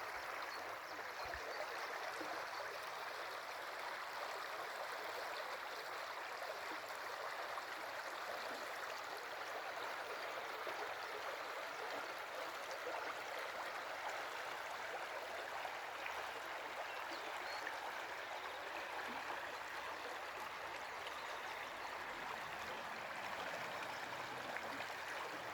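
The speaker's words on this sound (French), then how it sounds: "Je me tais un peu pour que vous entendiez cette merveilleuse rivière." A river flows steadily and continuously close by, a broad even rush of water with no voices over it for the whole stretch.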